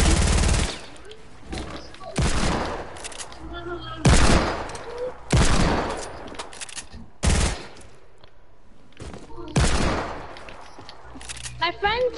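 Gunfire aimed at the player in a shooting video game, repeated loud bursts of rapid shots spread across the clip, mixed with a player talking over it.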